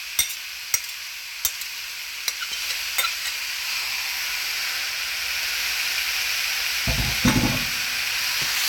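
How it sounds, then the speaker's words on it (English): Ground beef for tacos drops into a hot pan with a few sharp clatters, then settles into a steady, close sizzle and hiss, with a louder burst of frying and scraping near the end. "we're gonna go ahead and add our meat to our pan"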